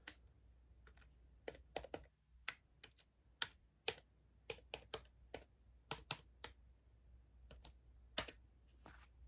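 A password being typed on a Chromebook keyboard: close, crisp key clicks in irregular bursts and pauses, with no talking.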